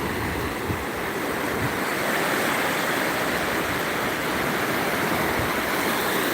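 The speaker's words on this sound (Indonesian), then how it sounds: "Inilah suasana pantai di Aceh." Constant roaring surf washes in a broad, steady rush of breaking waves at a beach in Aceh, Indonesia, close and loud, with some wind and no voices.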